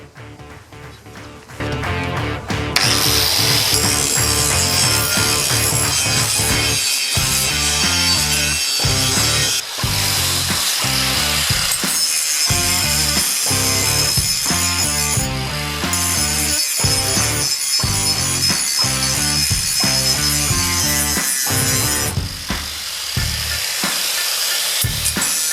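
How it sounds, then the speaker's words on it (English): Exhaust pipes on a BMW E30 being ground smooth, steady loud harsh power-tool grinding running continuously, with rhythmic pulsing and brief changes in pitch as the tool works the metal. "just grind the pipes smooth so I can enter them in the Supersprint resonator"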